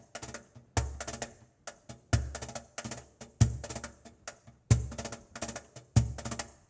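Drum doubles played for a fandango rhythm give repeated sharp hits in grouped patterns, each accent followed by quicker lighter strokes, fairly close and steady throughout, with no voices.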